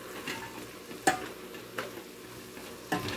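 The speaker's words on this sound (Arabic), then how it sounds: "we stir it all together to season the vegetables" Dry lemon, black pepper and salt are stirred into vegetables in a cooking pot, with a soft scraping and sizzling underneath and a few sharp utensil clinks against the metal.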